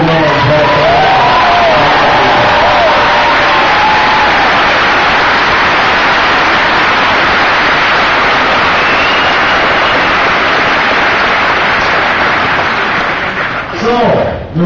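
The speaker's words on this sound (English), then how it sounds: "And give a big round of applause." Crowd applauding and cheering after a political speech by Barack Obama at Exeter High School, New Hampshire: a loud, dense, sustained roar of clapping and shouting that fades near the end.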